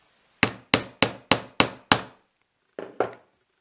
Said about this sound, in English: place the hollow leather punch on the hole in the centre and